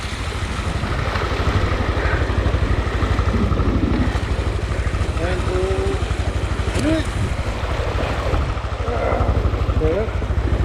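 Motorcycle engine idling and revving while pushed through a rocky stream near mountain hot springs, a steady low drone under splashing water, with people talking close by.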